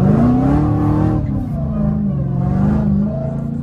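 A Dodge Hellcat revs hard and loud while sliding through a turn, its engine note rising and falling with a steady roar close by, with no tire squeal clearly standing out.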